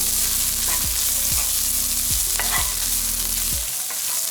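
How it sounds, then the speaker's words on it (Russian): Tomato paste and carrots fry in a pan for borscht, a steady loud sizzle with a low rhythmic scraping as the mixture is stirred repeatedly, no voices. "Далее добавляем томатную пасту. Слегка ее тоже обжариваем."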